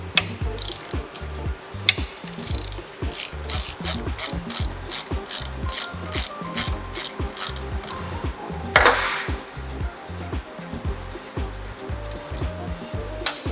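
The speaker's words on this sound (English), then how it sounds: "Next, I'm going to take my 17mm socket and remove the axle nut." A ratchet with a 17mm socket loosens a motorcycle's front axle nut on a Yamaha TT250 build, giving rapid, regular clicking bursts with a few pauses and a louder clunk midway.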